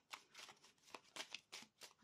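A deck of oracle cards is shuffled in several quick, soft flicking bursts, quiet and close, lasting about two seconds.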